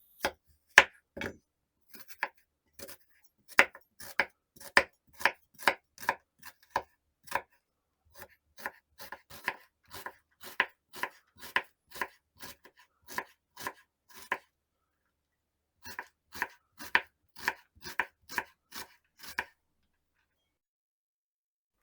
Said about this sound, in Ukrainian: цибулю нарізати невеличкими кубиками.